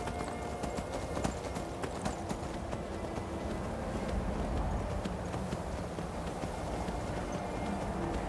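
Horse hooves clip-clopping at a walk in the video game Skyrim, a steady run of soft, even hoofbeats over an ambient game background with no talk.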